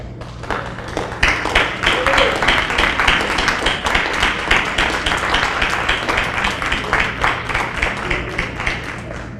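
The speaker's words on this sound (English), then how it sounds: "We want to give you a round of applause" Audience at a city MLK oratorical contest applauds principals and teachers with steady, dense clapping that keeps up across the whole stretch, a voice briefly audible beneath it.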